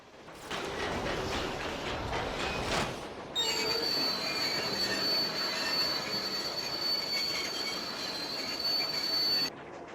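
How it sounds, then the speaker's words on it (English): Train brakes squeal in LEGO Marvel's Avengers: rumbling rail noise, then a loud, sustained high-pitched metallic screech that holds steady for several seconds before cutting off. "Better get to the front of the train to pull the brakes on this thing."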